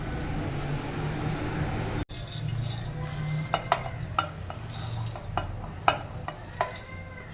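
Peeled garlic goes into a hot pan for an egg sambar, a soft steady sizzle with a sharp knock early on, then scattered metal spoon scrapes and taps as it is stirred, close and without talk.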